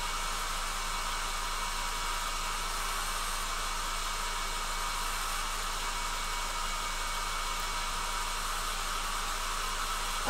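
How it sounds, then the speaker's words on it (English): Hairdryer running on its low setting to dry paint on miniature aircraft models: an unbroken, steady airy hiss close by, with no change in level throughout. "So you can listen to me use a hairdryer for a bit."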